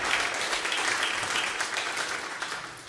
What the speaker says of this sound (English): Yes, please put a round of applause for me.